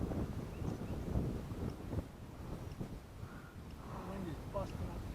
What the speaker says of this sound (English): The wind is busting up there.